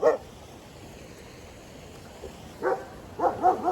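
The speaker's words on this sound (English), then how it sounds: "My dog's barking." A dog barks indoors in short, separate yelps: one at the start, then a small cluster near the end, moderately distant and alone.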